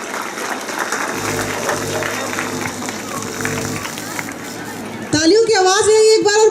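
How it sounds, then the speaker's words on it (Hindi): Applause from a crowd, steady clapping for several seconds, then a voice speaks loudly over it near the end. "जोरदार तालियों से स्वागत कीजिए।"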